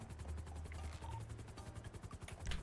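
Helicopter in a video game, a steady low rotor thump with rapid blade chop throughout, moderately close and continuous, with no talk over it.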